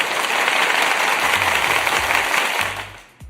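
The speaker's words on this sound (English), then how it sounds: "Let me get the applause button for Kim real quick" Canned applause sound effect triggered from a button, a dense wash of crowd clapping that plays steadily for about three seconds before cutting off abruptly, with a brief low thump near the end.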